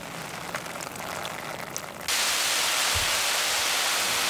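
Heavy cartoon rain suddenly bursts on partway through a Paw Patrol storm scene, a loud, steady wash of hiss that replaces the quieter background and keeps pouring to the end.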